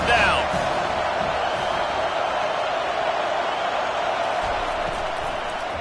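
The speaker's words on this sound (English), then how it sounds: "Decibels rising as the crowd gets behind this defense on 3rd down." Football stadium crowd roaring on a third-down defensive stand in Tennessee, a broad sustained wash of crowd noise holding loud throughout with a slight swell at the start, with no clear voices standing out.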